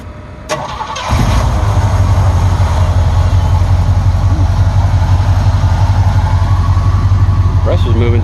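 Engine of a custom camper, an A350, cranks and catches after a short starter whir, then settles into a loud steady idle close by at a swap meet, with people talking faintly nearby.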